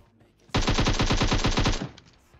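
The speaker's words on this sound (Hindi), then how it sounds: "वो बंदा उधर से शॉर्ट गन पेल रहा है" Rapid burst of automatic gunfire from a shotgun in PUBG Mobile, a loud, steady rattle of about a dozen evenly spaced shots lasting over a second, then cutting off abruptly into quiet.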